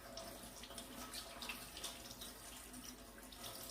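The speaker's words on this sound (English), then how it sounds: "I'm washing my peppers, so just giving it a good wash." Red peppers rinsed under a running kitchen tap, with a continuous soft splash of water and small irregular spatters as the peppers move under the stream, fairly quiet and close.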